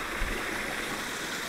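Flowing water at Kalakad falls, a steady broadband rush of moderate loudness that continues evenly without breaks, with no voices.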